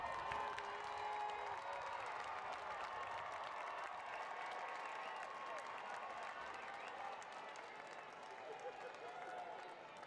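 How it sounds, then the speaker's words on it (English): Large graduation convocation audience applauding steadily, a dense wash of clapping that holds for about ten seconds and eases slightly toward the end. "Please give them a round of applause."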